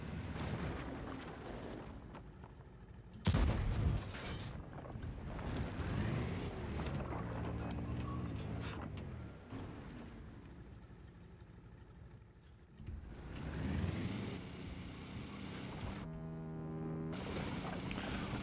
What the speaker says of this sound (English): Engine sounds like a bloody grass cutter.